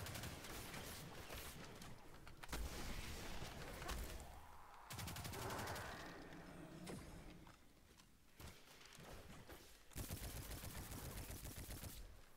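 A machine gun fires in bursts in the video game Destiny 2, with long rattling runs of rapid shots broken by short pauses and mechanical clicks, fairly faint overall.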